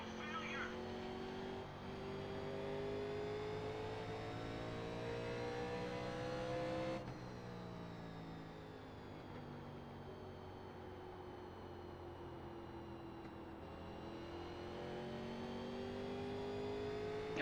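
A NASCAR Legends race car engine in iRacing at Richmond, held at a steady high drone that climbs in pitch, drops sharply when the throttle lifts, then rises again, with a voice talking over it throughout.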